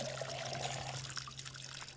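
Steady trickle of running water from watering plants in the video game Schedule I, continuous and fairly close, over a constant low hum with no talk.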